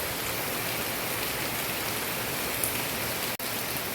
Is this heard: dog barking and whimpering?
no